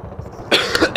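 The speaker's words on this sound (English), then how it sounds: "If you heard my cough there, you can tell." A sudden, harsh cough from a sick person bursts out in two or three rough bursts after a quiet moment, close and loud.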